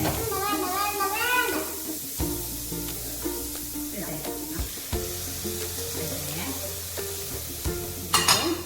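Pasta is stirred in a hot pan, giving soft scraping and sizzling sounds under an ongoing voice, with a brighter hiss flaring near the end.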